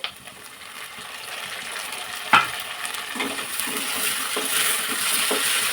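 Freshly cut tomato dropped into a pan of browned frying onions for beetroot palya, with a sharp hit followed by steady sizzling and stirring that builds gradually.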